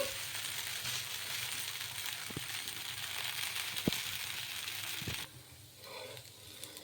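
Rava dosa fries on a hot pan with a steady sizzle and crackle, broken by a few sharp ticks, before the sizzle quiets near the end.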